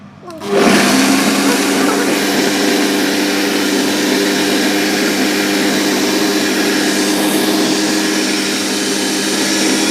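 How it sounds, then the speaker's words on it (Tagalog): An electric blender that is failing kicks on and runs loud and steady for the whole stretch, whirring as it churns tomatoes into paste close by. "Pasira na yata itong aming blender."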